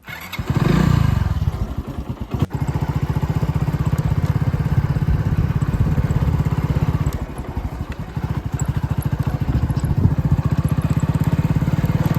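Motorcycle ridden back home from the farm: the engine revs up at the start, then a steady, loud putter with rhythmic firing pulses, briefly easing off a couple of times before pulling again.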